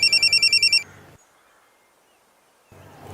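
A telephone rings in rapid pulsed bursts, then falls nearly silent before the ringing starts again faintly at the end.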